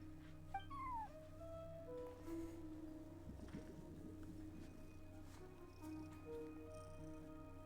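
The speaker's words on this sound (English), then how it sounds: "cat watching over the front desk. Excuse meow?" A cat keeping watch over a front desk in Genshin Impact gives a few short, faint meows over a quiet game ambience with a soft musical hum.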